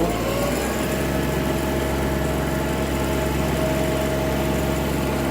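Kubota GB-20 Japanese mini tractor engine held at full throttle, a steady, loud, buzzing drone with a constant pitch and no change in level throughout.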